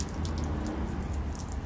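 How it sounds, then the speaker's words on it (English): Water jets from recessed fan jet bars on van-mounted water fed window cleaning poles give a steady, close hiss of spraying, splashing water with no break. "I'd just like to show you the water flow coming out of those recessed bars."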